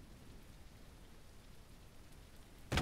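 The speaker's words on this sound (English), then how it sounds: "Of course, now it's going to be raining." Steady rain falls in a mining video game, a soft, even hiss of drops with a sudden louder burst right at the end.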